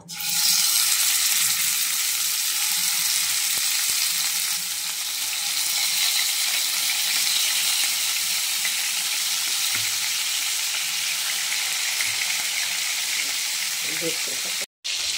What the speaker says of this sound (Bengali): তেলটা গরম হয়ে গেছে, আমি চিকেনটা একটু ভেজে নেব।